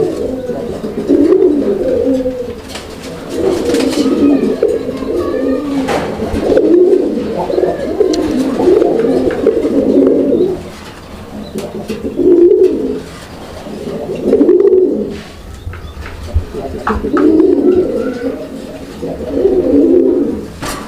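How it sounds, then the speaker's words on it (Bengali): A pair of Raj-golla pigeons coo loudly and close, deep throaty rolling calls repeating in bursts every couple of seconds over about twenty seconds. "এইটাও কিন্তু একদম ভরপুর ডাকের একটা কবুতর"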